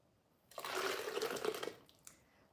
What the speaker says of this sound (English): I'm going to go ahead and pour a little bit more of this water so all my beans fit in there.